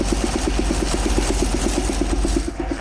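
A ZMZ523 carbureted engine with its compressor air supply not yet connected runs steadily, a close, loud idle with a fast even pulsing beat and deep low rumble throughout.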